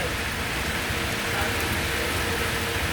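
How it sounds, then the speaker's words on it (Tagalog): Steady heavy rain falls without a break, a dense, even wash of sound that stays loud and close throughout. "Maulan mga kababayan."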